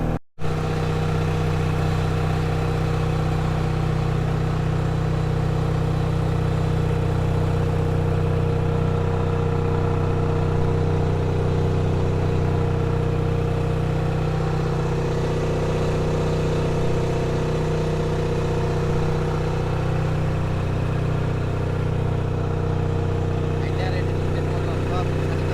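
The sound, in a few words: engine of a trawler boat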